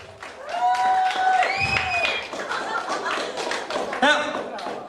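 Applause rises from the crowd at a comedy stage hypnosis show, scattered claps and chuckles mixed with an excited voice and whooping over the top, with a thump near the end.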